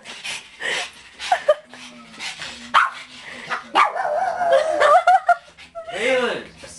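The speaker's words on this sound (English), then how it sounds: "I said no barking" A dog barks several times in short bursts amid people talking and chuckling nearby, with a high yelp near the end.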